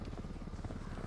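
A helicopter flies overhead in Ghost Recon Wildlands, giving a close, loud, steady rotor thumping that fills the brief moment.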